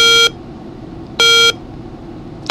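Two loud, bright electronic beeps from a memory game app, each about a third of a second long, spaced roughly a second apart over a low hum.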